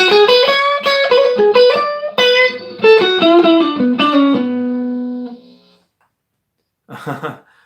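Overdriven electric guitar plays a quick run of bluesy pentatonic notes with bends, ending on a long sustained note, then a short burst of strumming.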